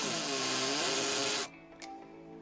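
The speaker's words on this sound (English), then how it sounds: "I put it in the hammer drill." A hammer drill whirs loudly at close range, spinning a shaft fitted with a cleaning attachment against the wheels of a Dinky Ford Zephyr die-cast model, its pitch wavering, then cutting off and leaving quieter scraping handling noises.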